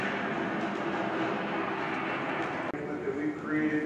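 A passing train rumbles continuously outside the Cheyenne train depot, a low heavy roar that shakes the building, with people talking over it and a sharp click partway through.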